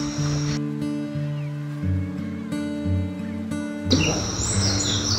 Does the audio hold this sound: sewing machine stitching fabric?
no